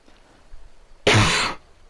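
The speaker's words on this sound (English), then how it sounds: "Sorry about the cough." A single harsh throat clearing with a cough bursts out loudly and close, lasting about half a second amid near silence.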